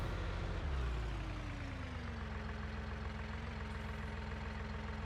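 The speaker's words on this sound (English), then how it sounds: "I'm gonna miss how small and maneuverable this little Massey is. Really is a fine little tractor." Small Massey tractor in Farming Simulator 19, its low diesel rumble dropping from a brief rev into a steady, moderately quiet drone while driving.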